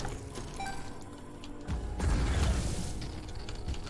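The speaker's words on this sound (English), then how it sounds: "I like the noise that death game makes" Machine noise from the death game in The Binding of Isaac, heard as mechanical clicking and creaking with a low thumping boom that swells near the middle and carries on to the end.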